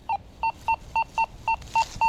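A Deus 2 metal detector sounds nine short, evenly spaced electronic beeps in quick succession, clear and close against faint outdoor background noise in a park.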